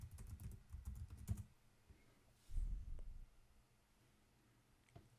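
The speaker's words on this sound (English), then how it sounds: "Type your password." Password being typed on a computer keyboard in two short bursts of quick, close keystrokes with a pause between them, then a single faint click near the end.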